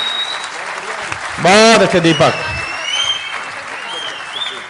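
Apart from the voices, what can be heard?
loud audience applause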